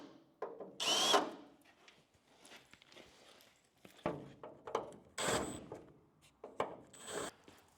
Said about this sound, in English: So I'm going to grab a countersink bit now and just remove those.